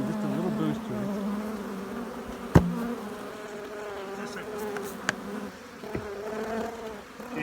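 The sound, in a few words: honey bees buzzing in a hive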